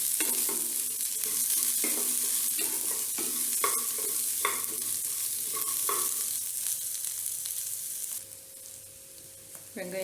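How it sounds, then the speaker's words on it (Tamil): Onions and tomatoes sautéing in a pan for chicken salna, a steady sizzle with repeated scraping strokes of a stirring spoon and no talk. "வெங்காயம் தக்காளி எல்லாம் நல்லா வணக்கிக்கிங்க."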